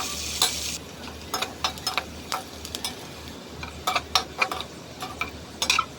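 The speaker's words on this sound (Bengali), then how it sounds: "আমি একটু পেঁয়াজ বেরেস্তা করে নিব," Chopped onions fry in hot oil until crisp for a hotel-style chicken dum biryani. A steady close sizzle runs throughout, punctuated by sharp crackles and spatula scrapes in irregular bursts, with no talking.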